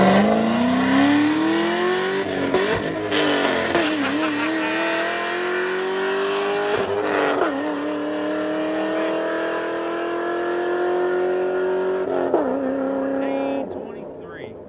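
A Camaro with a manual stick shift makes a launch pass, its engine revving hard with rising pitch through each gear, brief drops at the shifts, loud and close, fading slightly at the end.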